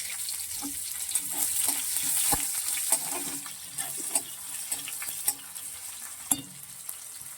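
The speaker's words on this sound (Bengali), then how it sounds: "তেল গরম হয়ে এসছে। এর মধ্যে দেবো কুচানো পেঁয়াজ" Chopped onion drops into hot oil and fries with a close, steady sizzle, punctuated by repeated scraping and tapping of a spoon stirring in the pan, with no voices.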